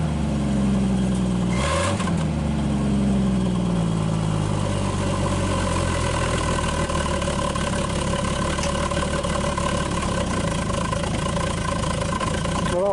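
A 1961 Dodge Lancer engine restarting after sitting 30 years, a brief burst then a steady, rough idle with low harmonic hum running throughout, loud and close, with a person talking over it.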